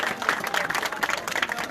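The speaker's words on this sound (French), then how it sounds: "Est-ce qu'on peut applaudir?" Applause from a crowd at a political gathering in Cameroon, a short spell of scattered, uneven clapping of moderate loudness with crowd noise mixed in.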